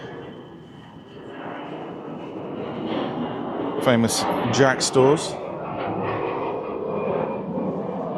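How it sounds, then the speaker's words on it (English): An airplane passes overhead near a medieval castle on the Isle of Man, a broad engine rumble that swells steadily as it approaches, while a person talks briefly in the middle. "I hear the plane coming over."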